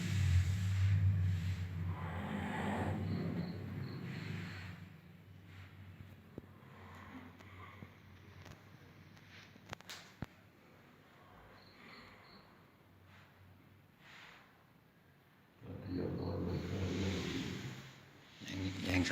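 A car engine revs in a quiet outdoor setting at night, rising in a couple of loud surges at the start and end, with a softer rumble and insects chirping between.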